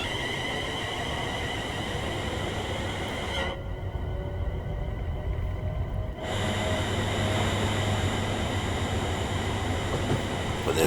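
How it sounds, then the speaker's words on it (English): A video game train, a London Overground service near Watford High Street, rumbles steadily along the rails with a continuous mechanical roar and faint high whine, briefly dipping before resuming, loud and close throughout. "there's the overground train heading off towards Watford High Street"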